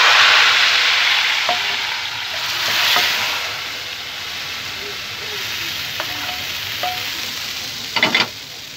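Bhangar being stirred into sizzling urad dal gosht in a pot: loud steady frying hiss with intermittent scraping strokes and a cluster of clinks near the end, no talking.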